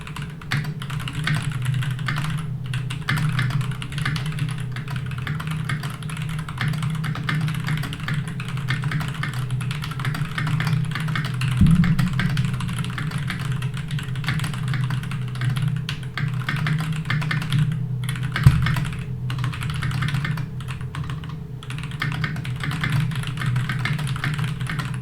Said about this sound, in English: I'll type.